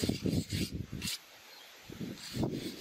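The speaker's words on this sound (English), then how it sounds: "you come up with a wire brush, scrape it off. Scrape off the charcoal," A wire brush scrapes charcoal off the surface of burnt wood in quick, rasping strokes, a rapid run of scrubs, then a brief pause, then a few more strokes close by.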